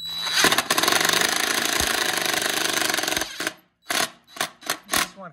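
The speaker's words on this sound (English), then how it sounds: "now I'm just going to use my driver" A cordless driver whirs steadily for about three seconds while driving a screw into a vehicle trim tab, then gives several short, close bursts as the screws are snugged down.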